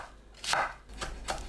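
A knife cuts cabbage into thin strips about half a centimetre wide on a cutting board, three crisp chopping strokes, close and fairly quiet, without talk.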